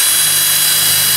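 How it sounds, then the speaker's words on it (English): A cordless drill with a 1/4-inch bit bores into a hard disk drive, a loud, steady high-pitched whine held for the full second without talk. "get you about a 1/4-inch bit, wireless drill"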